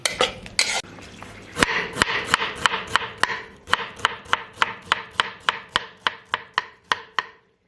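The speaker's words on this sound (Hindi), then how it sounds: "तो अदरक को इस तरह लंबी शेप में काटना है।" Ginger is chopped into long strips with a knife on a cutting board, producing a rapid, regular series of sharp close knocks that quicken and then gradually slow, with no talking.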